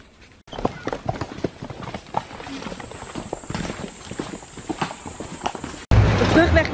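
Horses on a jungle path in Tayrona National Park, Colombia, their hooves clopping in an irregular rhythm at close range, ending in a burst of louder rustling, with no talk over them.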